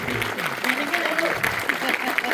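Theater audience applauding after a Star Trek: Strange New Worlds season finale Q&A panel, a steady dense wash of clapping with voices mixed in throughout.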